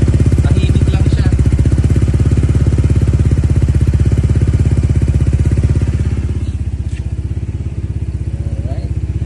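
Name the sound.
Honda ADV160 scooter engine idling with new power pipe exhaust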